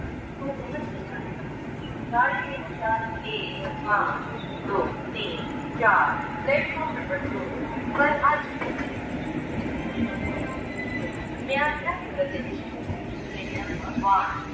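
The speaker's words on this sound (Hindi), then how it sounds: "फ़िलहाल हमें ट्रेन डिपार्ट हो चुकी है जसीडी से" A passenger train pulls away from Jasidih station, its steady rolling rumble running throughout, broken by repeated rhythmic rail clatters. Someone talks over the noise at times.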